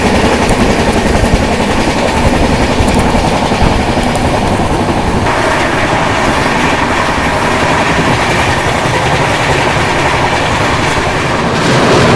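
A passenger train runs steadily along the tracks after pulling out of Palasa station in India, with a loud, continuous rumble and rhythmic clatter of wheels and carriages heard up close throughout, with no talk.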